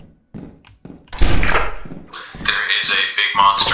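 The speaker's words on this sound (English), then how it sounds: "I'm closing doors, boy." Door slamming shut in the video game Lethal Company, a heavy close thunk followed by metallic clanking and a mechanical whine, with a voice speaking briefly around it.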